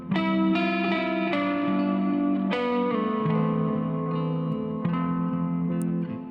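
Sustained electric guitar notes ring out with heavy reverb and effects, each chord washing into a long shimmering tail, played slowly and clearly up front.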